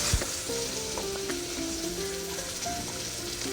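Onion and dry red chillies sizzle and fry steadily in hot oil in a pan, a continuous close crackle with light stirring clinks, no talk.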